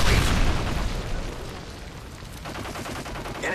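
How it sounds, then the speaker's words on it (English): A Predator missile explodes in Modern Warfare 3 during a Domination match on the Interchange map, a loud sustained rumbling blast with crackling debris and scattered gunfire. "Friendly Predator missile inbound"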